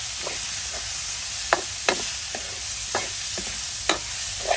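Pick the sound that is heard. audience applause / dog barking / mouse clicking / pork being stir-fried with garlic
pork being stir-fried with garlic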